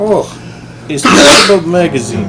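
A single sharp sneeze bursts out in the middle of brief talk, loud and close, with people speaking just before and after it.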